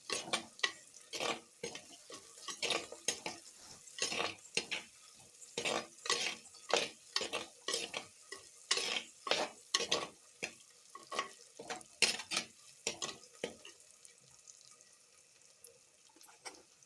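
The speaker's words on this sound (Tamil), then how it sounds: "இப்போ கொஞ்சம் கருவேப்பிலை மட்டும் நம்ம போட்டு இந்த காய்கறியோட சேர்த்து நம்ம வதக்கலாம்." Radish and potato pieces sautéing with curry leaves in a pan, a steady soft sizzle under repeated scraping stirs of a spoon, fairly quiet and close, thinning out toward the end.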